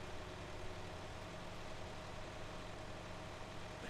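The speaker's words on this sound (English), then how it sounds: "Look how much our tractor is struggling for traction." A farm tractor's engine labours steadily up a steep hill while straining for traction, a continuous loud low drone and rumble with no breaks and no voices.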